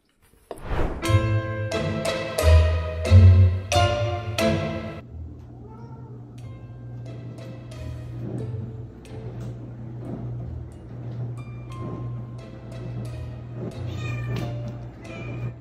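A Siberian cat meows along to Happy Birthday, giving a series of loud, drawn-out tonal meows at first, then softer repeated mews over a steady low hum.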